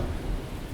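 A thunderstorm outside, with a steady wash of heavy rain and a low rumble of thunder filling the background, fairly loud and continuous with no voices.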